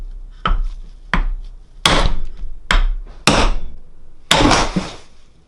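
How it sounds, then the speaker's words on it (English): Six sharp, loud impacts of a 3-pound hammer striking a hard wooden block on a Subaru WRX axle, spaced irregularly with brief pauses, each blow ringing with a solid thwack. "Got a 3-pound hammer and got a nice hard piece of wood."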